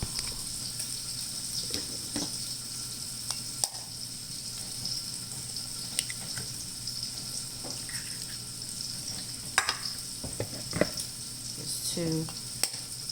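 Eggs fry in a pan with a soft, continuous sizzle heard close but quiet, broken by a few light clicks and knocks of kitchen handling.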